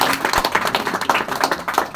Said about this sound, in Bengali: ভাইয়ের জন্য একটা করতালি হয়ে যাক।